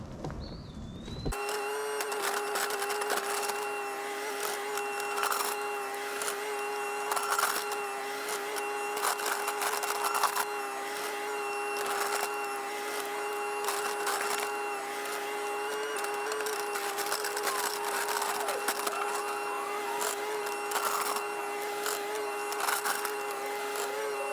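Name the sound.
mini excavator digging a deep trench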